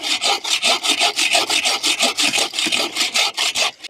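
Hand saw cutting through wood outdoors at a campsite, fast rhythmic back-and-forth strokes, loud and close, about four strokes per second with no talking.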